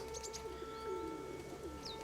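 Soft, low pigeon cooing repeats a few times close by, with a brief higher chirp near the end over a steady background hum.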